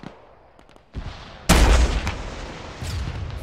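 Gunfire in a ShackTac military video game: one sharp, loud shot cracks out and rolls into a long rumbling echo, with smaller clicks and thumps before it and a faint second report near the end.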